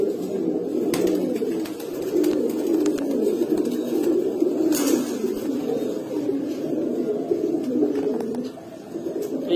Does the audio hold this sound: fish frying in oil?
no